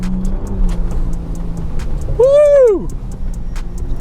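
A Ford Bronco Raptor ploughs through a big puddle, its engine humming low before a loud rushing swell of water, with a person whooping excitedly over it.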